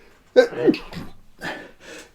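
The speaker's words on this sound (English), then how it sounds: "I have to sneeze." One sharp sneeze erupts up close, followed by a couple of softer, breathy vocal sounds.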